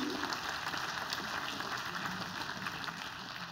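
A conference audience applauds in a dense, continuous wash of hand claps that stays fairly steady and slightly distant, with no talking.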